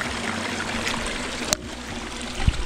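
A fresh mountain stream on the Appalachian Trail trickles and gurgles steadily close by, with a brief sharp click partway through and a low thump near the end.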